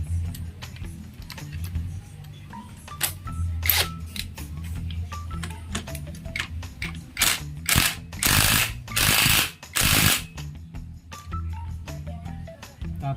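Clutch nut being tightened on a Honda Wave Alpha motorcycle, heard as a run of fast ratcheting clicks close up. Several louder, denser bursts of wrench action come near the end.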